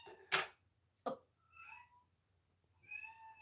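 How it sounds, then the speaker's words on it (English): A novelty wall clock gives its hourly meow, a few synthetic cat meows after two sharp knocks, faint in a quiet room. "That's my clock if you hear meowing."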